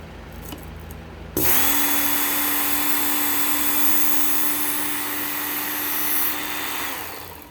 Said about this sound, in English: So I've ran this now twice through the machine.